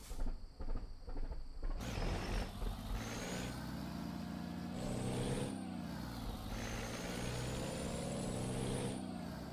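Modded high-horsepower truck engine in the American Truck Simulator game, a loud, steady deep rumble that swells and holds with a gruff, droning tone and shifting pitch throughout.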